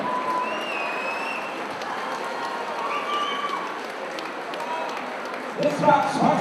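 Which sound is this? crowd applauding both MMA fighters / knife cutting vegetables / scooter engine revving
crowd applauding both MMA fighters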